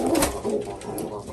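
An English Trumpeter pigeon coos close by in a breeder's loft, a soft, continuous low burbling that runs steadily for just over a second with no talk over it.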